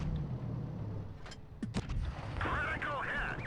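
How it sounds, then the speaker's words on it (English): A tank cannon fires in World of Tanks Blitz, a sharp shot amid engine rumble and battle noise, heard briefly around mid-clip with talk over the game sounds. "Shot into the tracks and does 0 damage."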